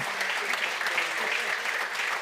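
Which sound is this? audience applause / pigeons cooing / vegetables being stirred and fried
audience applause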